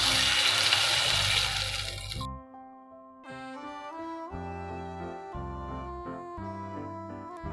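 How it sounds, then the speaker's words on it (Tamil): Water pours into a cooking pan, about a litre for half a kilo of egg semiya, as a loud rushing splash for roughly two seconds, then stops abruptly and gives way to background music. "அரை கிலோ சேமியாவுக்கு 1 லிட்டர் தண்ணி ஊற்றிக்கலாம்."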